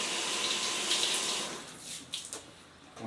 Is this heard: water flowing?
yes